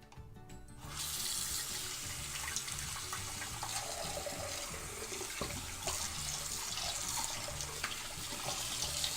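Hot water runs steadily from a tap into the bottom of a DIY shaving scuttle, a continuous close rushing splash that starts after a short quiet moment and holds evenly throughout.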